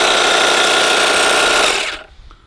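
Husqvarna 536LiHD60 cordless hedge trimmer running, a loud, even, buzzing whir of reciprocating blades that holds steady and then cuts off, fading quickly to quiet.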